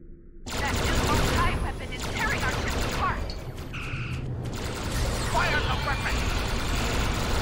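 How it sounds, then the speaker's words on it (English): Weapon fire in Star Trek Online bursts out abruptly and carries on as dense, rattling energy blasts with crashing impacts, loud and sustained, overlaid with game voices. "Fire the weapon!"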